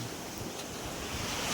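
Sea waves washing onto the seashore where bait worms are dug for fishing, a steady broadband surf wash with some wind, swelling slightly louder toward the end, with no voices.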